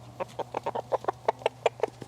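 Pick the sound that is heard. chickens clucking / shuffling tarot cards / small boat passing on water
chickens clucking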